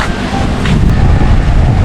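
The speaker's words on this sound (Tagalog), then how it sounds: "Lakas ng hangin." Strong wind at a beach campsite in Batangas buffets the microphone in a steady, roaring rush that swells slightly, loud and close, with no voices.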